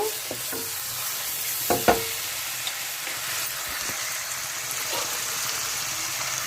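Onions, curry leaves and green chillies crackle and sizzle in hot oil in a pan, a steady close hiss broken by a few sharp spatula knocks and stirs.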